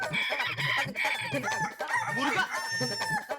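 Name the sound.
person imitating rooster crowing as punishment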